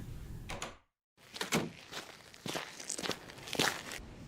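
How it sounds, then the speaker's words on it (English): Footsteps approaching the front door in a radio drama, a series of about six distinct, fairly close steps with a steady walking rhythm after a brief silent gap, alone without speech. "Hey, Sherry, could you come to the front door?"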